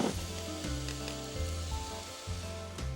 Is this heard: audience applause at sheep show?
no